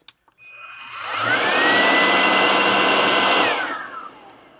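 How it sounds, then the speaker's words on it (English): A BUSYBUDY TD1 Mate 2 cordless stick vacuum cleaner, a 400W model, whirs up after a couple of soft clicks, holding a steady whine at moderate loudness before stepping down in pitch and spinning off near the end. "The TD1 Mate 2 is a quiet machine, as we can hear the 3 speeds running from low, medium, and high."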